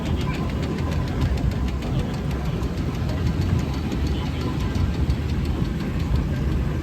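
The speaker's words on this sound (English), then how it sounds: "So this is a diesel-powered steam ploughing engine." A diesel-powered steam ploughing engine runs steadily throughout at a steam show, a low rumbling drone with a rapid regular chugging pulse, close and continuous with no voices.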